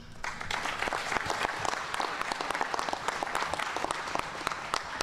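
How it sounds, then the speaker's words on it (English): A crowd at a public program event in Back of the Yards gives a round of applause, sustained many-handed clapping with distinct close claps standing out over the wash. "Give them a round of applause"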